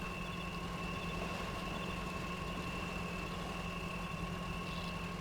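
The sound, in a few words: truck engine idling in video game Spintires MudRunner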